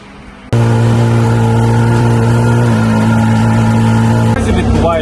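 A Porsche 911 engine runs steadily during gearbox calibration, a loud, even drone that starts abruptly after a brief quiet moment, holds a constant pitch, then shifts slightly near the end.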